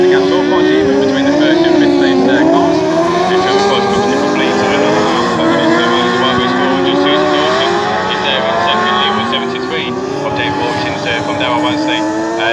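F600 autograss race cars in a final at Nottingham, engines droning and revving together as they run down the far side of the track, continuous and fairly loud with shifting pitch.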